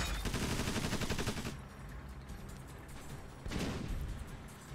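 Gunfire from units in the turn-based strategy game Tiny Metal, a dense rattling burst that stops at about one and a half seconds and then starts again near the end, loud, with no talk.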